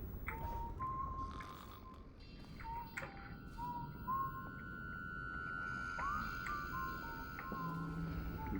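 Character whistling in the video game Dishonored, a thin melodic whistle drifting in short phrases over a steady low ambient hum, fairly faint and with no talk over it.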